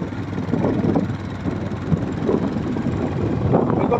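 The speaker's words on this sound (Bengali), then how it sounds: "হেলিকপ্টার।" A helicopter passes overhead near a temple roadside, its rotor and engine a steady broadband drone with a faint low throb, holding fairly constant across the few seconds with light wind noise.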